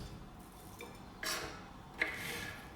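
Vegetables for a carrot vegetable soup are chopped on a wooden cutting board, giving a few sparse, quiet knocks of the knife striking the board against a low background hum.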